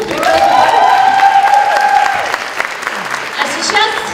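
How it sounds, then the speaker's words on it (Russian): An audience at a Russian theatre discussion applauds a director, clapping mixed with a sustained musical tone and voices over a few seconds, the clapping thinning toward the end. "мы можем начинать аплодисменты Данилу"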